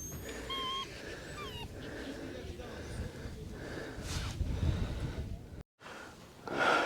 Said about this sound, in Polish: Patrz jaki piesek nam no, towarzystwa dopisuje.